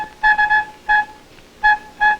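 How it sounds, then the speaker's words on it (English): A flute from a symphony woodwind ensemble, played by blowing across the mouthpiece opening, gives short clear breathy tones in a few separate bursts with brief pauses between them, close and alone. "And Mr. Bergner blows across this opening, it would have a sound something like this."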